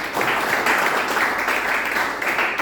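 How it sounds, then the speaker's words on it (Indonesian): A church congregation claps during a sermon, a steady, fairly loud mass of applause filling the room throughout, with no clear speech over it. "Beri tepuk tangan bagi Roh Kudus."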